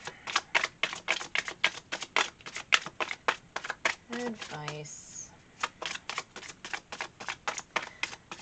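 Rapid, rhythmic riffling and flicking of tarot cards being shuffled, repeated in quick bursts, with a short spoken word and a brief tonal sound midway.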